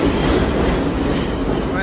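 A New York City subway train rumbles steadily with a dense, continuous roar of wheels and track, loud and close throughout.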